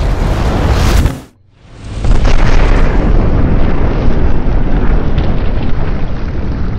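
Detonation of a high explosive in a pit with a three-sided wall, a loud broadband blast that briefly drops out, then a long roaring rumble with heavy wind buffeting on the microphone.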